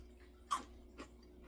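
An eggnog snickerdoodle cookie is bitten with a single crisp crunch, followed by a couple of fainter chewing crunches, heard close and quiet without talking.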